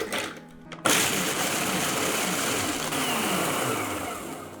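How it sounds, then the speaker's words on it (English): A food processor pulses Oreo cookies into fine crumbs, starting abruptly after a brief quiet moment and then whirring loudly and steadily with a gritty blade-chopping texture. "put these Oreo cookies into the food processor and just pulse it very finely"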